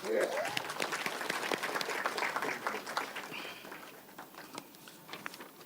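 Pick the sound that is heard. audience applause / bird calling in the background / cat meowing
audience applause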